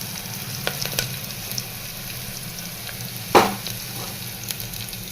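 Sliced onions sizzle and fry steadily in a hot pan for a potato and soybean curry, a constant crackling hiss with a brief louder stir or clatter partway through.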